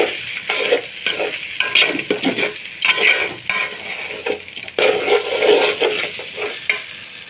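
Pulao rice sizzles in hot oil in a pan, a loud, steady fry broken by repeated scraping strokes of a spoon stirring the grains.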